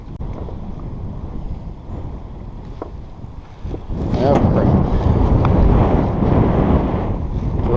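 Wind gusting over open water from a fishing boat, a steady broadband rush that swells louder and rougher partway through, with brief spoken words near the start.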